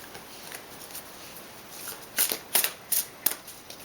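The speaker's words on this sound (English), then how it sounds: "I'm going to go ahead and pull an Angel Tarot card." Angel Tarot cards being shuffled and pulled, soft riffling then several crisp, close card snaps and slides clustered toward the end, with quiet room tone throughout.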